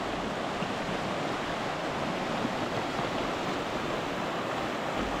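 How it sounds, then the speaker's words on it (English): A mountain creek at high altitude flows steadily, a soft, continuous wash of rushing water with no breaks or voices, fairly faint and even throughout. "I can sit out here and listen to the water."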